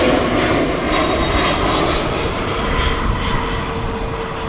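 A British Airways Airbus A320 landing at Heathrow passes with a loud, continuous engine roar and a steady low whine, the rumble holding strong throughout with no voices over it.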